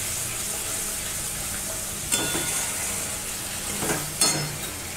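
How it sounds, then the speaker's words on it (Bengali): Spice paste with ginger paste fries in a pan for a banana-stem and prawn dish, a steady hiss under two distinct scraping stirs, one midway and one near the end. "মশলাটা একটু কষিয়ে নিই"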